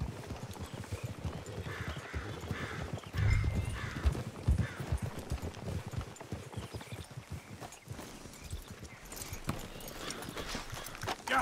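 Horse hooves clip-clopping at a walk in the Red Dead Redemption 2 video game, a steady faint rhythm of hoofbeats with soft ambient noise around them.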